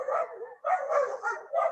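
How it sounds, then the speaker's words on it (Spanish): Dogs fighting, with repeated barks and yelping snarls in bursts, fairly close and loud, with brief gaps between outbursts. "los perros están peleando"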